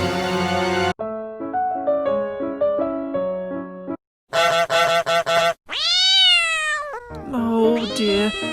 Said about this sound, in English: Your cat is so cute, said Peppa.